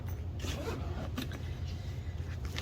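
A zipper slides on a pocket of a dog travel bag, soft and close, over a steady low hum with no voices.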